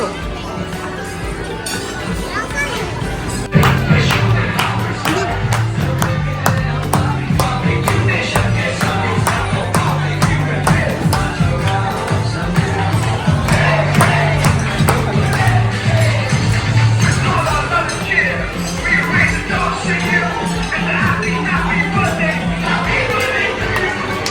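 Crowd of people waiting at a busy Barbeque Nation restaurant, a steady babble of many overlapping voices and shuffling close around, continuous and fairly loud with a low hum underneath.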